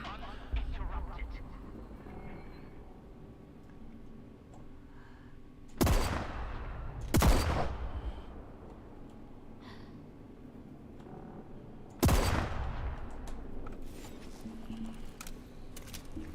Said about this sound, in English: I'm gonna pump you full of bullets and you're gonna die.